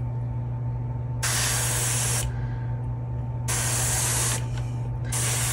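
A spray paint can fires expired blue paint through a stencil in two steady hissing bursts of about a second and two seconds, loud and close, with a few short puffs at the end.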